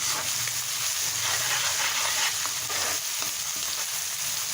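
A steady, close sizzle of ginger and garlic frying in hot oil in a pan, crackling continuously with no voices.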